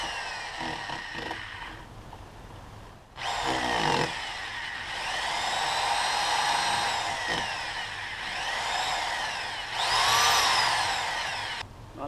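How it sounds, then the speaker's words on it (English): A power drill fitted with a tape-wrapped 1/4 inch bit bores holes while a hitch is installed on a Ski-Doo Grand Touring snowmobile. It whines in several separate bursts with short pauses between, up close and rising and falling in pitch. "let's see if I can drill some holes"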